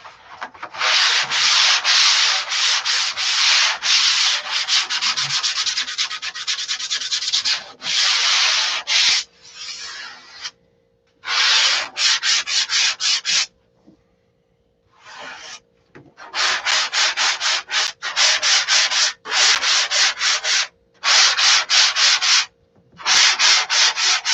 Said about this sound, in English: We're just sanding to get the marbles out.